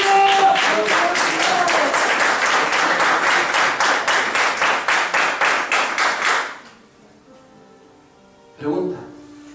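Church congregation applauding during a Spanish-language evangelical service, steady loud rhythmic clapping for about six seconds that stops abruptly, followed by a quiet pause and a brief burst of voice.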